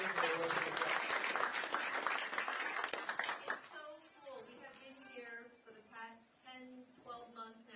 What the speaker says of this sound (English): So give a poor round of applause for something.